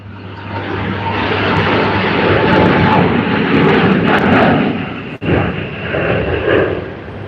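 An airliner at Sydney Airport, Emirates flight EK412 bound for Christchurch, gives a loud, steady, close jet roar that fills the whole stretch, swelling slightly and dipping once briefly near the end, with no talking.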